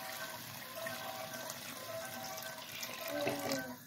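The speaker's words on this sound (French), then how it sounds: "je vais venir rajouter environ 1 litre d'eau tiède" Lukewarm water, about a litre, pours into a cooking pot for a Jerusalem artichoke stew, a soft, steady splashing stream heard close but quietly, alone.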